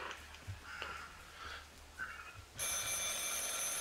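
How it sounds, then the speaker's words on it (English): A telephone ringing in the horror video game Bigfoot, with faint intermittent rings at first, then a sudden loud continuous bright electronic ring that cuts in and holds steady to the end. "Oh, there's a phone ringing."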